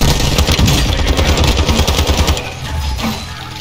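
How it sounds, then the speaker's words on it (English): Dense rapid gunfire in the Warzone 2.0 video game, a loud rattling burst of automatic shots close by that continues for a couple of seconds and then thins out into quieter distant firing. "Watch your fire!"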